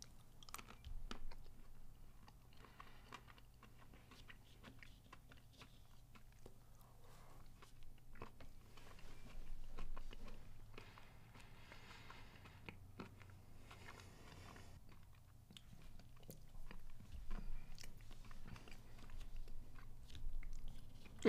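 Someone eating Ben & Jerry's cookie dough ice cream with peanut butter cups: quiet, close chewing and biting with soft crunches, scattered through a faint, hushed room.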